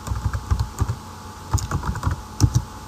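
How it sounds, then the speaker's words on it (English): Keystrokes tapped out on a computer keyboard while building a C# Windows app, a close, uneven run of clicky presses with short pauses between bursts. "Let's type it out."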